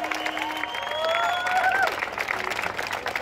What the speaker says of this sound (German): Wo ist der Applaus hier?